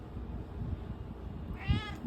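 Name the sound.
cat meowing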